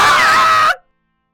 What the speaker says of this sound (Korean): 갑작스러운 비명.